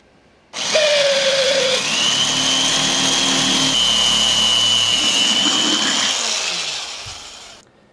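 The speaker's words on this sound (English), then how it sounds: "no project is complete without your extremely vintage Black & Decker home utility drill" An old, unoiled vintage Black & Decker home utility electric drill starts abruptly, whines at high speed, bogs down slightly as it bites, then spins down and stops; loud and close.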